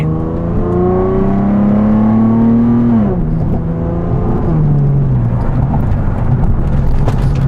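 A Nissan Fairlady Z with a V6 engine pulls away from a stop, its loud, close engine note rising steadily, dipping at a gear change, then climbing again.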